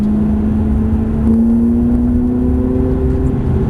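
Ferrari 430 engine at Prestwold track, a steady loud drone with pitch climbing slowly as it gently accelerates under light throttle, continuous and close throughout.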